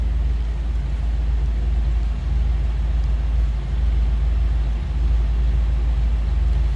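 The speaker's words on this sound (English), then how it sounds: "Nothing crazy over the top for the exhaust. Nice sounding car." A 1955 Ford Thunderbird's 292 V8 idles through a stock-sounding exhaust, a steady low rumble with faint periodic pulses, close and continuous, no voices.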